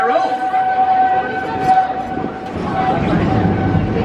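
A Disney theme-park railroad train rolls along with a steady rumble and a sustained whistle-like tone, fairly close and continuous, with voices talking faintly over it.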